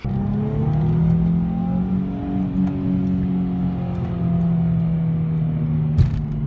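A Nissan 350Z engine holds a steady, close, loud rev with a smooth rising and falling drone throughout, ending with a brief knock near the end.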